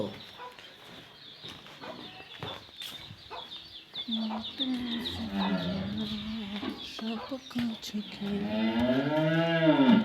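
Cows moo repeatedly on a cattle farm in Bogura, Bangladesh, long drawn-out lows at close range, with hens clucking and scattered farmyard noises in between.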